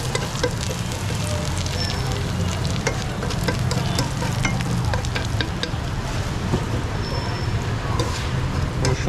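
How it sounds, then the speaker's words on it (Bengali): Garlic sizzling in butter in a pan: a loud, steady, close hiss of frying with faint crackles, continuous throughout, while someone speaks over it. "প্রথমে একটু রসুন দিলাম,"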